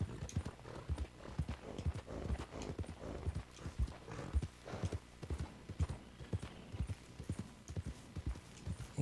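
Horse hooves clip-clop steadily in Red Dead Redemption II, a near, continuous trotting rhythm of sharp knocks with a brief whinny-like texture and faint background ambience.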